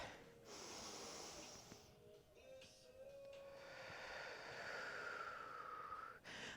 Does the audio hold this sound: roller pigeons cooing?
no